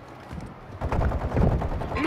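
Sustained gunfire in a Call of Duty DMZ firefight, dense rapid shots building in loudness over the clip, with voices talking underneath.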